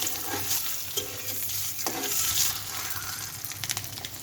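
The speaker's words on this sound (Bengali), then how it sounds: "ডিমটা ভেজে নেব" Egg frying in a pan with steady soft sizzling and a few scraping stirs of a utensil, close and moderately quiet with no talking.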